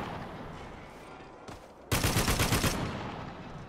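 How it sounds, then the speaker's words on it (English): A mounted turret in the shooter Spec Ops: The Line opens up in a rapid, loud burst of automatic fire lasting under a second, after a lone shot and quieter background combat. "Mantap nih pakai turret."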